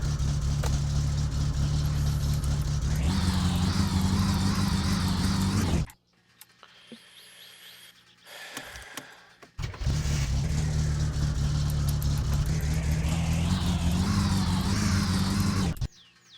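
Car engine in the video game My Summer Car, loud and close, idling then revving up, cutting out to near silence for a few seconds before roaring back to a sustained high-revving drone, with no voices.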